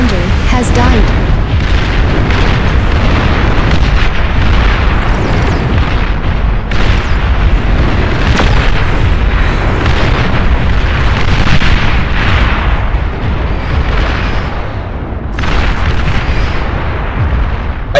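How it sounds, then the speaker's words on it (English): Heavy T3 artillery shells pound a base in the strategy game Beyond All Reason, a loud, dense barrage of booming explosions rolling almost continuously with sharper blasts cutting through. "I start getting hit by T3 artillery here at some point."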